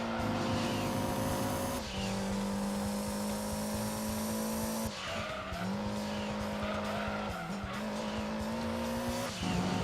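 A race car in the Gran Turismo 2 video game screams through repeated gear shifts, its loud engine note climbing and dropping, with tire squeal mixed in as it corners.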